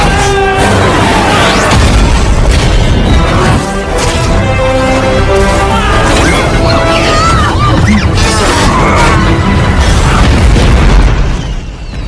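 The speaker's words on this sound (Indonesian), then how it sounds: "hingga terjadilah ledakan sana-sini ketika mereka mulai menyerang orang-orang ekstremis itu" Continuous loud blasts and booming explosions from an Iron Man 3 battle scene, layered under dense film score and effects with no break across the whole stretch.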